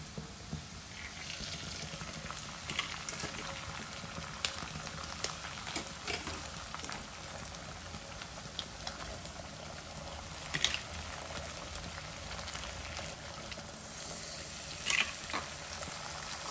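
Beaten egg cooks with fried onion in a pan, a quiet steady sizzle with occasional clicks and scrapes of stirring, close and without talk.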